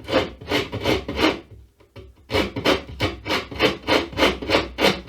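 A rasp scrapes hard against a wooden guitar template in quick, rhythmic strokes, loud and close, with a brief pause before the coarse rubbing resumes.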